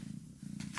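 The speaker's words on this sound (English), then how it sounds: "She's purring so loud." Carmella, a cat, purrs close and loud in a rapid, steady rumble with breathy pulses that rise and fall with each breath, heard alone.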